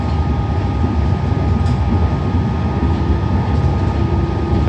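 An HCMT electric train departs a Melbourne station, a loud, steady low rumble and rolling roar close by, with faint squeal near the middle.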